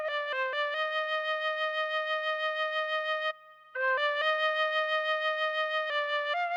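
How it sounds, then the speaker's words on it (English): A synthesized flute sample in FL Studio plays a simple melody of sustained, pure tones, with a brief pause midway before continuing. "we have the exact flute sound that was in that original song."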